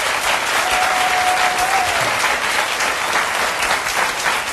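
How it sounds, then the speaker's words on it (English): A studio audience breaks into loud, steady applause for a talk-show panel, continuous clapping throughout with a faint crowd murmur beneath. "Please give my panel a round of applause,"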